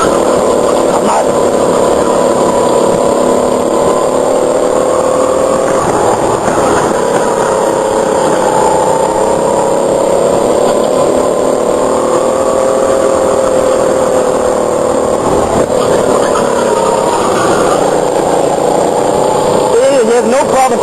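Motorcycle engine droning steadily while riding through corners, a continuous loud hum with slight pitch shifts throughout, heard without talk.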